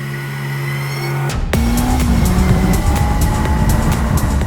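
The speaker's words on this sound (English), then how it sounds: "the car violently screams towards the red line" A Honda S2000 engine is held at full throttle and screams up toward redline as VTEC engages, a loud, sustained high-pitched wail with rising harmonics after a brief gear change.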